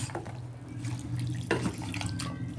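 Water trickles and splashes steadily into a bowl as semolina and curd batter is thinned little by little, a continuous close pouring sound with a brief sharper splash midway.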